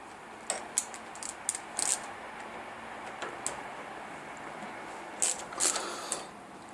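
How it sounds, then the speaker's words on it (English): A T25 Torx tool slackens a bolt on a Land Rover air suspension compressor, giving scattered light metallic ticks and ratchet-like clicks in short clusters, close and fairly quiet. "using a T25 Torx tool, you can now slacken the bolt."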